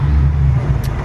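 A modified car launching hard at a car meet, heard as a brief, loud, deep engine roar that stays strong and close throughout the short burst.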